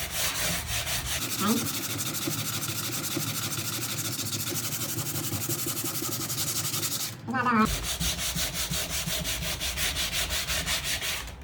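Steady, loud rasping of sandpaper rubbed by hand back and forth over a wooden front door, continuous except for a brief break, then resuming.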